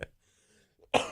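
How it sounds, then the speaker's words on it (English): A single short, sharp cough, close by, after a brief quiet breath. "I'm going to start coughing."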